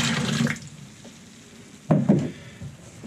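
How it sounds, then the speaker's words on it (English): Water is poured into a trailer toilet bowl: a splashing rush at the start, a quieter stretch, then a second short, louder gush of water near the end, with no talking. "Pour some water in there."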